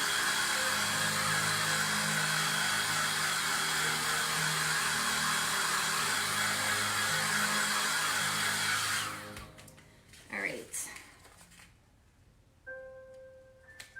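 A hair dryer blows steadily and loudly to dry paint trays after layering gold paint, a continuous whooshing drone that cuts off at about nine seconds, leaving faint clicks and small handling sounds.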